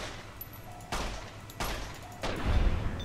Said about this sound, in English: Yeah, I killed him with Benny's gun.